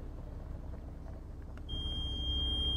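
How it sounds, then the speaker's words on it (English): A buzzer on a 900 MHz relay device starts up, giving a steady, piercing high tone that holds on continuously over faint background noise. "And you'll hear it beeping there."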